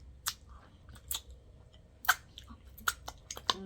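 Close, wet chewing of pickles from a Wendy's cheeseburger, with crisp crunchy bites and smacking mouth sounds in an irregular rhythm, loud and near.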